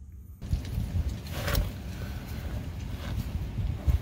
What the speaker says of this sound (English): Sorry if the wind's bad, we just had a cold front roll through.